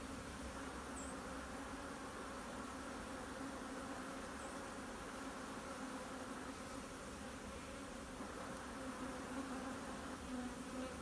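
Honeybees hum steadily at an open hive while the queen is handled during Dutch/German drone-trapping work, a dense, continuous close-up buzz that holds level throughout with no talking.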